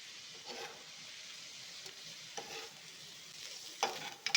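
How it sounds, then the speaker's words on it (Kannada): Prawns for butter garlic prawns fry in a pan with a soft, steady sizzle and occasional stirring. The sound is close but fairly quiet, with a few sharper clinks and scrapes near the end. "ಈಗ ಚೆನ್ನಾಗಿ ಫ್ರೈ ಆಗಿದೆ ಇದು ಚೆನ್ನಾಗಿ ಫ್ರೈ ಆಗಿದೆ"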